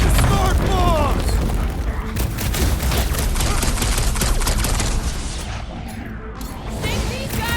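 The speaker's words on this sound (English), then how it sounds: "Bust out the smart bombs!" Smart bombs go off in the video game Guardians of the Galaxy, a loud, dense string of rapid booms and crackling bursts that fills several seconds, with character voices heard among the blasts.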